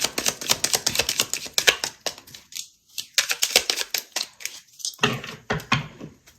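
Tarot cards are shuffled and drawn, giving a close run of quick papery flicks and snaps, dense at first, then coming in short clusters with brief pauses.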